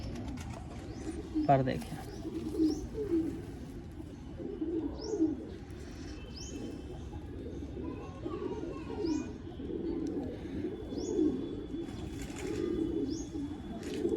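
Cooing from an old home-bred male blue pigeon, low repeated throaty pulses near the microphone, mixed with other birds chirping and someone talking over it.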